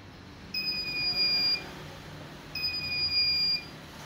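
A digital prayer-time clock alarm gives two long, shrill electronic beeps, each about a second long and a second apart, loud and close with no voices.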